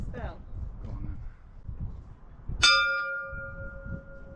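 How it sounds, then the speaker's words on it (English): A bronze bell at Capdepera castle in Mallorca is struck once, a loud bright clang with a long ringing hum that fades slowly, after some quiet background talk. "You ready for me to ring this bell?"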